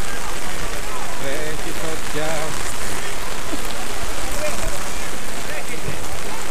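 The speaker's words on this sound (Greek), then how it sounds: "Αυτή τη στιγμή ρίχνει σχεδόν χαλάζι στο γήπεδο των Βρυλισσίων." Heavy rain, nearly hail, pours onto a football pitch in Vrilissia during a match, a dense, constant hiss of drops under a commentator's voice.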